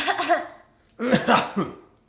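Two harsh coughs in close succession, the second one a burst of several rapid hacks, fairly close and loud.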